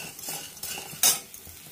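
Roasted edible gum is scooped from a wok onto a plate: a few quick scraping strokes and one bright metallic clink of the spoon against the pan, over faint residual sizzle.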